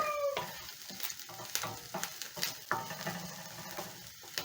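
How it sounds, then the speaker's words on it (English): Three garlic cloves hit a frying pan of golden-brown onions with a crackling sizzle, while a utensil scrapes and stirs in repeated close bursts over the steady frying hiss. "I'm going to add my 3 cloves of garlic"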